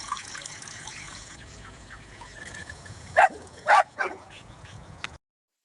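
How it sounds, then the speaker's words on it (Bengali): AI-generated dog barking effect: a few sharp, loud barks in quick succession over a soft running-water bed, followed by a brief yip before the sound cuts off. "ওইটা কিন্তু পাখিটাকে রিপ্লেস করে কুকুরের সাউন্ড ইনপুট করে দিছে।"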